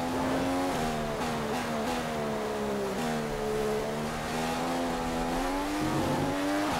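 A Formula 1 car in F1 2015 wheelspins on ice-cold tyres, a loud, steady engine drone with wavering pitch and tyre scrub running continuously and close.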